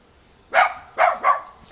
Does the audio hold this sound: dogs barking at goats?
yes